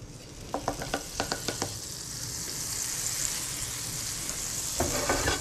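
Three tablespoons of butter sizzle in a pan over medium heat, a steady hiss with a quick run of light taps or scrapes near the start and more near the end.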